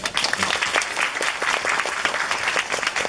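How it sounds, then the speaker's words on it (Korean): Theater audience applauding the actors and director at a post-show talk for a stage play, steady dense applause from a large crowd filling the whole stretch. "다시 한번 박수 부탁드립니다."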